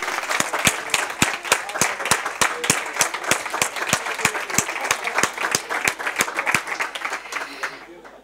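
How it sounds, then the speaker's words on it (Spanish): An audience at a business creativity and innovation event gives a strong, steady round of applause, dense rhythmic clapping lasting about eight seconds before fading at the end. "¿creéis de verdad que Jesús se merece un fuerte aplauso por estar aquí y ahora?"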